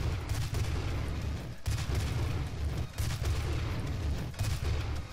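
A grenade going off in the video game Doom (2016), heard as a dense, loud, continuous roar of blasts and gunfire, with brief dips in the din.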